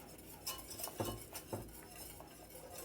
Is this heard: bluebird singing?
no